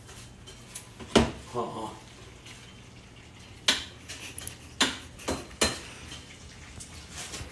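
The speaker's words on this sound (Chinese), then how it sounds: "再放点八角， 放点八角，就是翻炒就可以了" Star anise stir-fried in a pot, heard as sharp intermittent clacks and scrapes of a utensil against the metal spaced a second or so apart, with a person talking between them.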